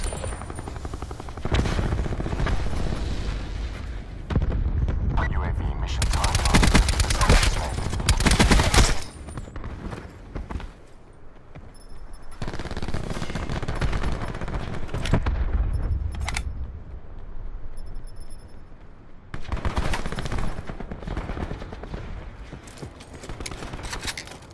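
Repeated bursts of rapid gunfire in a shooter video game come in loud clusters separated by quieter gaps, with a steady mechanical drone running underneath.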